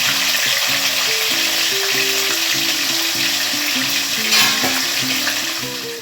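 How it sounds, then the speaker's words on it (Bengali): Fish pieces fry in hot oil in a pan, a constant broadband sizzle running under a loud, steady melodic music track that plays throughout. "মাছগুলোকে পরপর ভেজে নিচ্ছি, উল্টে নিচ্ছি, উল্টো পাল্টা করে ভেজে নিচ্ছি"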